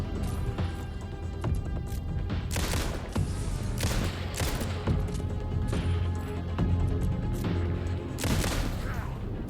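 Dense video-game gunfire from Alan Wake 2 Night Springs fills the stretch with rapid, repeated shots and impacts, loud and continuous with barely any pause.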